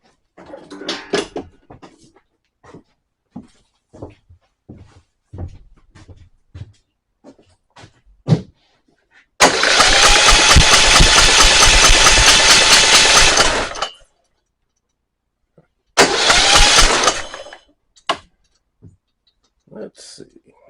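A Troy-Bilt Horse XP tiller engine cranks and fires, with a loud sustained run of about four seconds followed by a second shorter burst, set between stretches of someone talking nearby.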